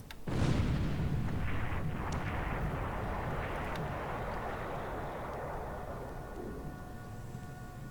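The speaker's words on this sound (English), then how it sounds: "we're going to finish her off with gunfire" In the video game War in the Pacific, a heavy boom opens into a long, rumbling roll of naval gunfire and blasts that stays dense and loud throughout.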